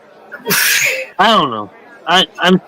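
A single loud, sharp sneeze close to the microphone, followed by a couple of brief spoken words.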